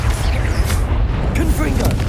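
A Bombarda spell explosion in Hogwarts Legacy, a loud, dense boom with low rumbling filling the short stretch, with a voice briefly heard under it.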